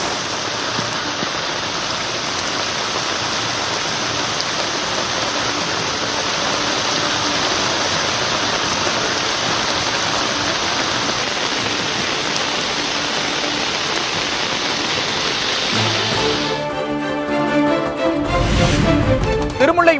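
Heavy rain pours in a steady, dense hiss with rushing floodwater in Chennai's Tiruvottiyur and Minjur area, loud and constant throughout, shifting near the end to closer splashing and clatter.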